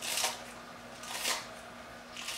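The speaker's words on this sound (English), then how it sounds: "I'm going to cut up some green onion to throw on top. I just like using the scissors for this." Kitchen scissors snipping green onion for a vegetarian breakfast skillet, three crisp cuts spaced about a second apart, close and fairly quiet over a faint steady hum.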